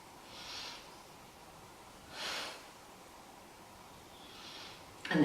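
Three slow, deep breaths drawn during a yoga pose, soft and airy, evenly spaced, with near-silence between them and a sharper rustle at the very end.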